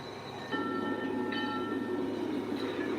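A locomotive rumbles along in a train simulator game, a steady mechanical drone with sustained whining tones that shift partway through, continuous and fairly close.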